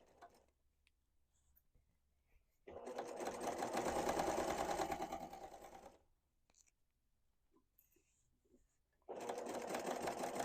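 Sewing machine quilting fabric squares for a tote bag, two sustained bursts of fast motor stitching separated by near-silence, close and steady.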